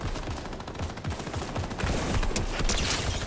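Gunfire in the video game Fortnite, with rapid bursts of automatic shots mixed with single cracks, dense and continuous, growing heavier toward the end, no talking.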